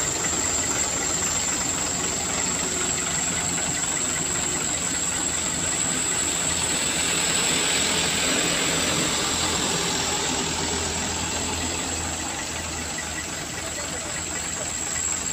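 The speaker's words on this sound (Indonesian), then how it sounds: "truk kol diesel ini bosku sudah berjalan" A diesel engine of a coal truck chugs steadily and continuously, a rough, close rumble with no pauses throughout.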